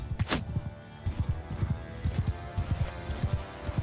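Horse hooves clip-clop at a quick galloping rhythm in Mount and Blade II: Bannerlord, steady and close with a brief higher cry near the start, no talk over it.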